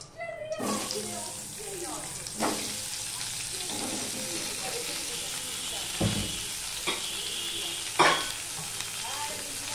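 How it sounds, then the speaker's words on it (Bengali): Vegetables sizzle in hot oil in a pan for a spinach dish, a steady close frying hiss broken by a few louder crackling bursts and stirring scrapes. "এবারে যা তেল আছে তার মধ্যেই আমি এই সবজিগুলো দিয়ে দিচ্ছি।"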